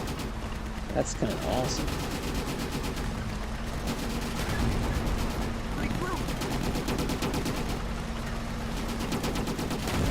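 Rapid gunfire in the video game Easy Red 2, with dense, continuous automatic bursts and scattered single shots in a World War II battle, heard under a voice speaking.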